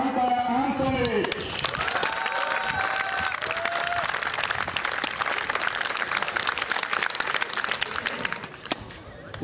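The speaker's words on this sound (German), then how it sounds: "Bitte begrüßen Sie mit einem großen Applaus die ehemalige Nummer 40 der ATP-Tour, Alexander Antonic." An audience applauds at a tennis exhibition in Hofstetten-Grünau, steady dense clapping that carries on for the whole stretch, with a voice briefly heard at the start.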